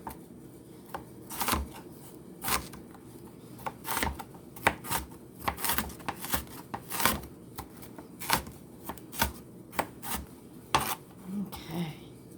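Knife chopping vegetables on a cutting board while preparing homemade pizza, a steady run of sharp, close taps at irregular intervals with brief pauses, no talking.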